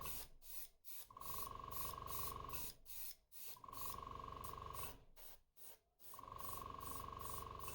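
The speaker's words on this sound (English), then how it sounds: "I'll spray some orange accents on the belly" An airbrush sprays orange accents onto the belly of a handmade crankbait lure in three sustained hissing bursts, each with a steady tone, separated by brief pauses.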